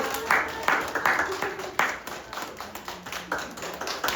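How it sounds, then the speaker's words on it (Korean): Church congregation at a Christmas service applauding with scattered, uneven claps spread across the room, a brief burst of hand-clapping at moderate volume with murmured voices beneath. "우리 박수 한번 하실까요? 박수!"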